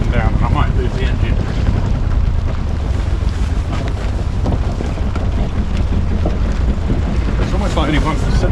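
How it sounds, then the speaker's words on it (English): A failing sailboat engine labours on a Solent trip while approaching the Hamble, a low, loud, rough throb under heavy wind buffeting and water noise, with voices intermittently over it. "you'll hear the revs going up and down, and I might lose the engine"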